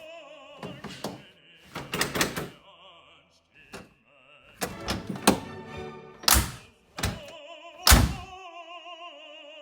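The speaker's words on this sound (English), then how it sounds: "Passenger door lock works properly." Passenger door lock on a 1973 VW Super Beetle convertible being latched and unlatched repeatedly, sharp metallic clunks in irregular clusters over a faint tonal background hum.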